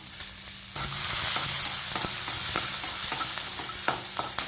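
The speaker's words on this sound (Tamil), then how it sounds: "அஞ்சாறு சாம்பார் வெங்காயம் போட்டு நாம் வதக்கிக்கிறோம்" A handful of small shallots sauté in oil in a pan for a fish curry, a steady close sizzle with occasional scraping stirs and clinks of the spatula.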